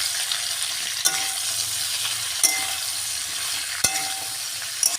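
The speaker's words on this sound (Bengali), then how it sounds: "তো চলো সবজিটা ভালো করে ভাজা ভাজা করে নিই" Vegetables fry in a pan with a steady soft sizzle, broken by several sharp clicks and clinks of a spatula against the pan as they are stirred; fairly quiet, with no talking.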